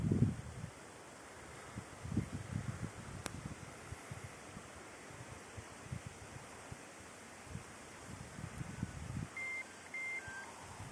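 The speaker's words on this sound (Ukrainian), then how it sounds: "От пропілікав пульт." A few short electronic beeps from a DAPA Lite autopilot remote control near the end, faint beneath steady gusty wind buffeting the microphone.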